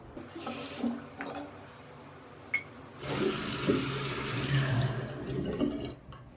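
A kitchen sink tap runs steadily as items are rinsed and washed, a continuous near splash that swells loudly in the second half with intermittent clinks and drips.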